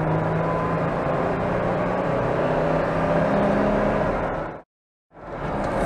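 A Jeep Wrangler engine at wide open throttle in third gear, a loud, steady roar that rises continuously and then cuts out abruptly for about half a second before coming back.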